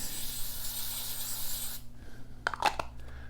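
REM oil sprayed from a can onto a gun cleaning mat, a short hissing burst followed by a few light rubbing and handling noises close by.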